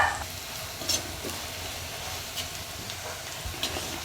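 Bitter gourd masala fries in a pan with a steady, close sizzle, broken by occasional scrapes and clinks as it is stirred.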